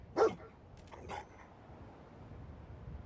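Dogmeat, the stray dog at a roadside gas station in the video game Fallout 4, barks one sharp close bark and then gives a softer second yip over quiet game ambience.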